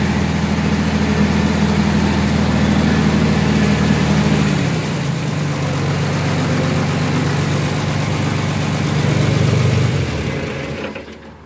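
A tractor engine runs close and loud with a steady low idle, dropping slightly in pitch midway and surging briefly before fading near the end; no talking.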